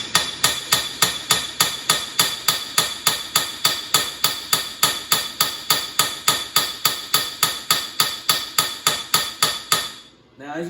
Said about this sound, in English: I take the hammer and you start tapping it